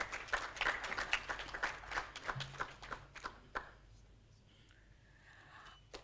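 An audience at a business breakfast meeting gives a brief round of applause, a crowd of hands clapping for about three seconds before the sound fades into faint room murmur.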